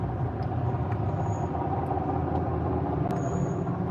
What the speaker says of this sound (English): that motherfucking truck is loud